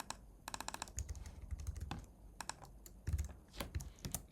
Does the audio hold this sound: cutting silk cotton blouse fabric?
no